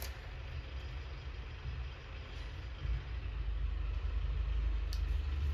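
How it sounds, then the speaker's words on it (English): Heavy trucks rumble past outside with a deep, steady engine roar that swells slightly, continuous throughout with no talking. "I don't know what's up with the trucks today."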